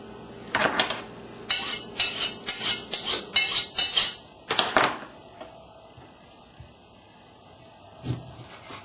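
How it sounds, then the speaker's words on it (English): A dull kitchen knife is drawn repeatedly across a sharpener, about a dozen quick rasping metallic strokes in an even rhythm, close and fairly loud, then quiet apart from one last light scrape. "The knife's getting dull. Need to sharpen it."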